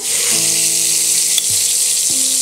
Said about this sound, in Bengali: এর সাথে এখন অ্যাড করে নিচ্ছি 1/2 টেবিল স্পুন পেঁয়াজ বাটা